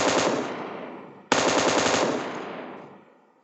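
Two long, loud bursts of rapid M249 machine gun fire in PUBG Mobile, the second starting abruptly after the first and tailing off into a fading echo, with no talking.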